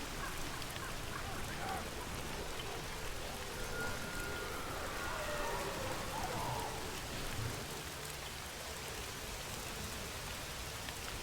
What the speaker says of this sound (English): The rain actually makes it feel a little peaceful on Izuhara.